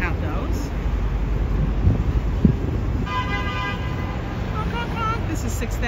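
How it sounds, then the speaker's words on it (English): Car horns honk on 6th Avenue in New York amid heavy street traffic and wind buffeting, a tonal horn blast standing out midway over the steady roar of the roadway while a person talks. "Honk, honk, honk."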